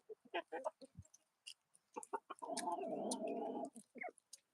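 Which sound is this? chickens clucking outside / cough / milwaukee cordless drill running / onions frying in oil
chickens clucking outside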